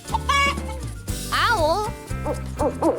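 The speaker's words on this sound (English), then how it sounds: "Chicken." A chicken clucks and squawks in a quick series of bright, wavering calls, set against a steady background music bed.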